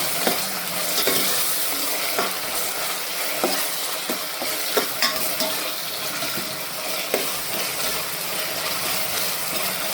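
Tomatoes frying in a pan for a puri sagu, a steady close sizzle and hiss throughout with occasional soft clicks of stirring, no voices.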